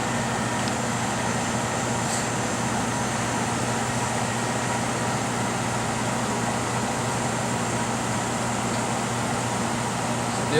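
Plasma-Therm System VII Batchtop PTI-79081F reactive ion etcher running, a steady, even machine hum with fan-like whir and low tonal drone, continuous and moderately loud throughout with no talking.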